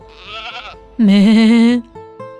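A single loud, wavering goat bleat lasting under a second, set between softer tonal notes.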